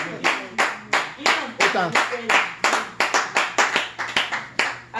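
A church congregation at a leaders retreat in Tomball, Texas claps to acclaim Jesus: steady, rhythmic, close clapping at roughly two claps per second, with voices speaking underneath.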